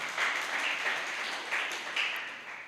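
Church congregation clapping together during a worship service, a brisk, fairly even burst of many hands with slight rhythmic pulses, heard from across the room.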